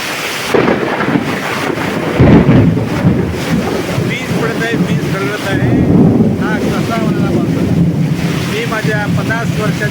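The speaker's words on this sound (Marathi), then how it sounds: "जोरदार पाऊस पडत आहे" Heavy rain pours down in a loud, steady roar that never lets up, with people talking underneath it.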